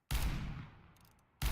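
A revolver in a shooting game fires two loud, close shots, the first ringing out and slowly decaying before the second cracks sharply at the very end.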